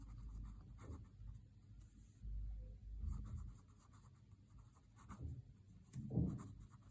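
A pen writes on paper during a maths lesson, making soft, close scratching strokes that come in short bursts with quiet pauses between them.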